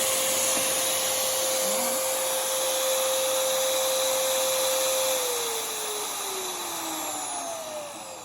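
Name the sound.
hammer drill motor running at high speed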